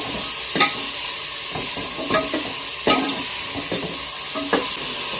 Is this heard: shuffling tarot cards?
no